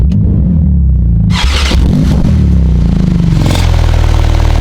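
A Porsche GT2 RS Weissach's 700-horsepower engine cranks and fires up close by, a sudden burst settling into a loud, rough idle.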